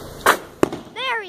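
Fourth of July fireworks pop in two sharp, separate cracks a moment apart, followed by a brief whistling, warbling tone, all moderately loud outdoors.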